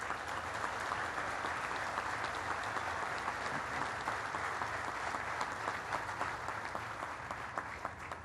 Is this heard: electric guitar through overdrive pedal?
no